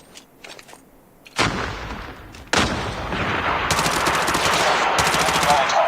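Loud automatic gunfire in a Call of Duty Mobile ranked match, starting with scattered shots and breaking into sustained rapid bursts that roll on to the end, with faint voices underneath.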